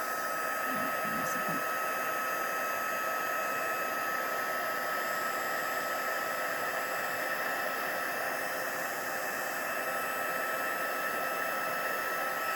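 A heat tool for embossing blows hot air in a steady, loud, even whooshing hiss with a faint whine that holds unchanged throughout, with no talking.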